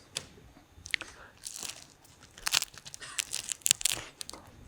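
Crunchy microwaved ham being bitten and chewed close up, a series of sharp, irregular crackling crunches in quick bursts, with no talking.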